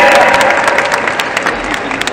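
Festival audience clapping at an Invincible Festival stage event, a loud burst of crowd applause with distinct individual claps standing out, fading slightly toward the end.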